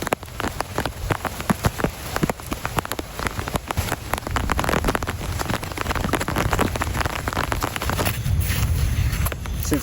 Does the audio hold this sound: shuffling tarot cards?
no